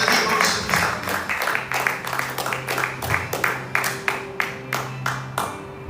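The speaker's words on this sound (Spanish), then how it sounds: "Denle un aplauso." A church congregation claps together in a steady, even beat during an evangelist's sermon, with sustained low musical notes running beneath the rhythmic clapping.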